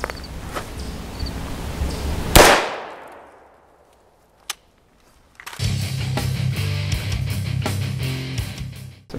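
A supersonic 300 Blackout round fired at a hard armor plate from about 12 feet: a single sharp, loud report with a metallic impact that rings and decays, then a brief click and a stretch of outdoor noise and shuffling.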